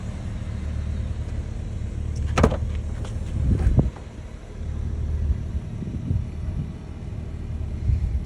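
A 2004 Jeep Grand Cherokee 4X4 with the 4.0L engine idles with a steady low rumble, joined by a few brief clicks and knocks partway through.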